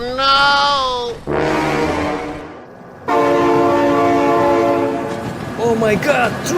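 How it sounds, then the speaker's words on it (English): An animated train sounds its loud, sustained horn twice, and a rumbling passage of rail cars comes between the blasts, with a voice briefly shouting near the end. "Oh my god, train!"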